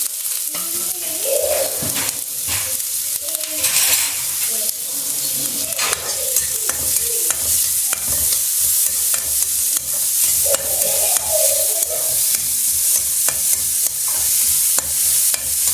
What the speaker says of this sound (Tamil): வெங்காயம், இஞ்சி, பூண்டு எல்லாத்தையும் சேர்த்து போட்டேன்.